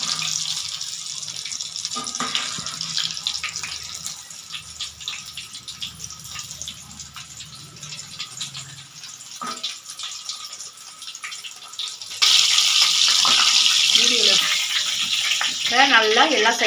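Chicken pieces, KFC-style fried chicken, sizzling in hot oil over medium heat, a steady hiss that swells louder partway through, with occasional clatter and water-like splashing.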